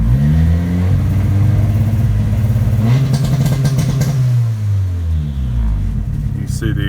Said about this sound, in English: You see the ignition cut popping on there.